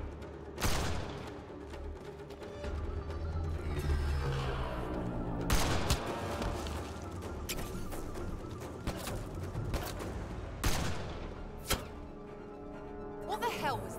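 Gunfire in the sci-fi shooter Mass Effect: Andromeda: a steady, busy firefight with repeated sharp shots and loud cracks standing out, over a rumbling game soundscape with voices shouting in the background.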